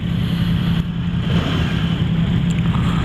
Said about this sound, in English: I like the noise this bike makes